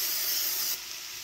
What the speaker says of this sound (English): just gonna spray you some kind of oil in there